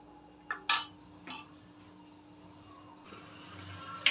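Spoon and metal pot clinking as cooked dal and spinach are scooped onto a plate: a few brief, light scrapes and taps spaced apart over a quiet kitchen background.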